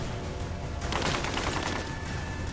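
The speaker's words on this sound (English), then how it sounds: "Who's shooting at me?" Rapid gunfire from the video game Rise of the Tomb Raider bursts out as a dense, crackling volley of shots lasting about a second, set against a constant loud background roar.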